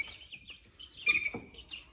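A rooster at a farm, brief bird calls and chirps that are fairly faint, with a slightly louder burst near the middle and no talking.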